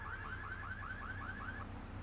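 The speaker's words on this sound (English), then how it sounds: "Also, this car has an alarm." Car alarm in Grand Theft Auto III, a repeating warbling electronic siren cycling in quick regular pulses for about two seconds, steady and fairly close over a low engine-like hum, with no talking.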